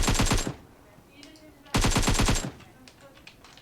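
Automatic gunfire in the mobile game PUBG Mobile comes in two loud rapid bursts, each about half a second long, separated by quieter game ambience.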